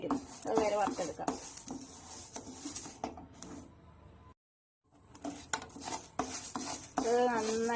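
Rice is dry-roasted in a pan while a spoon scrapes and stirs it in repeated clatters, with a voice talking over the cooking and a brief silent gap midway.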